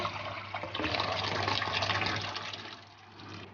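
Boiled white chickpeas and their cooking water are poured into a pot of chana pulao, making a steady, fairly loud rush of splashing liquid that eases off toward the end, with no talking.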